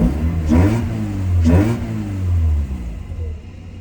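Mazda RX-8 rotary engine with its airbox removed, revved twice in quick blips over a rough, lumpy idle, loud and close, then settling back to an uneven rumble.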